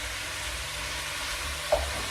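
Tomato puree for a beef stew base sizzles steadily in a pan, an even frying hiss with a brief clink near the end and no talking.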